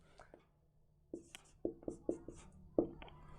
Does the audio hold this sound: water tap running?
no